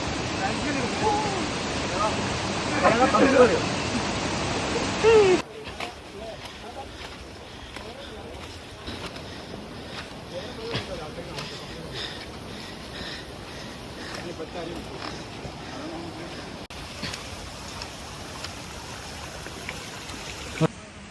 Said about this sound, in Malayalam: ചെറിയ അരുവിയുടെ അടുത്തെത്തി അരുവി ക്രോസ് ചെയ്തിട്ട് വേണം പോവാൻ